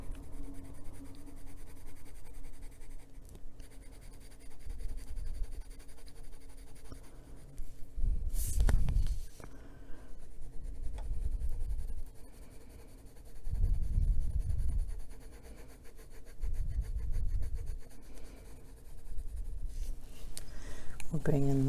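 Colored pencil shading on paper in an adult coloring session: soft, repeated scratchy strokes come in rhythmic bursts every few seconds, close and fairly quiet, with occasional handling noise and a person talking faintly between strokes.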